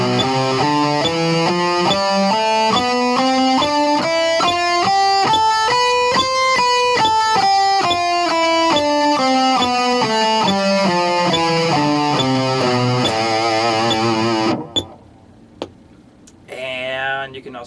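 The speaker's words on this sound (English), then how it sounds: "I'll do eighth notes this time so you can hear what that sounds like" Electric guitar playing rapid eighth notes, two per metronome beep, in a steady scale run rising then falling, with faint ticking beeps underneath; the playing stops near the end and a voice briefly starts talking.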